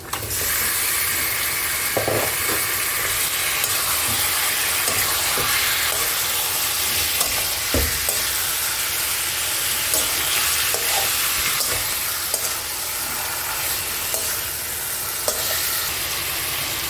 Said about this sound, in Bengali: এবার আমি এর মধ্যে ধুয়ে রাখা মাংসটা দিয়ে দিচ্ছি।